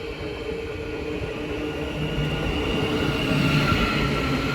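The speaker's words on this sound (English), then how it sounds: "Now arriving is the 1440 Thameslink service from Brighton to Cambridge, being worked by a class 700." A Thameslink Class 700 electric train arrives at Hitchin station on the East Coast Main Line, a steady, close rumble of wheels and motor hum rising slightly in loudness, with faint squealing and no talking.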